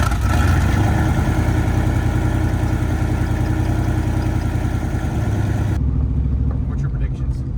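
Turbocharged police car with a 550+ hp engine and exhaust cutout, running steadily nearby with a loud, continuous low rumble that drops slightly near the end.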